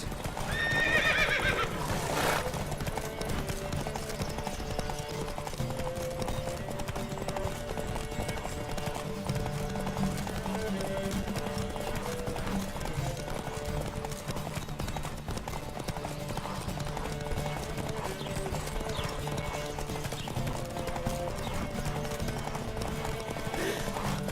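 Horses galloping in a race in the video game The Witcher 3: steady rhythmic hoofbeats run throughout, with a whinny near the start and game music underneath.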